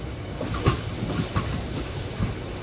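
A MEMU local train pulls into Machilipatnam station, its wheels rumbling softly with a thin squeal from the rails and a few clacks as it slows.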